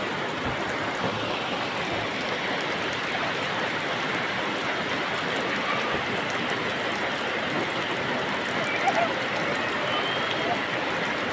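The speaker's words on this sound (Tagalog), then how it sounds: "Grabe yung ano ng ulan, guys." Heavy rain pours in a constant, dense roar during flooding in Valenzuela City, drumming steadily on surfaces throughout with no clear speech.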